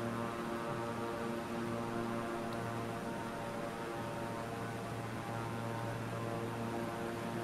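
Steady drone of an airplane flying through clouds, a continuous even engine hum with layered tonal bands and no breaks, heard from inside the aircraft with no talk.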